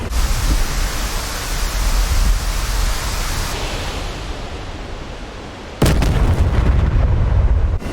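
Rocket fire and explosions in a naval battle video game, a dense rumbling roar that swells steadily and then breaks into a sudden louder blast near the end, with no talking over it.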